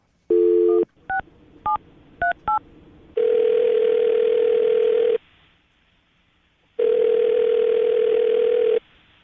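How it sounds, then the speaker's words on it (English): A quick run of telephone keypad tones, then two long, steady ringback tones with a pause between them, clear and close with no talking. "I'm going to call her right now, see if we can get her on the phone"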